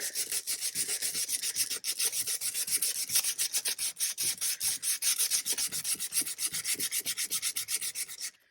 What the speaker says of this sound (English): I can't talk, but my sanding block sure can.